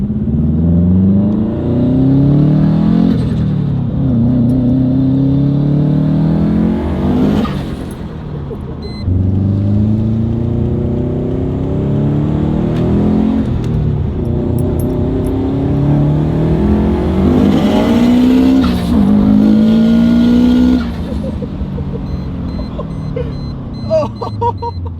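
A Subaru STI being dyno tuned, its engine revving hard in repeated long pulls that climb and drop back, loud and close, with occasional shouts from people nearby.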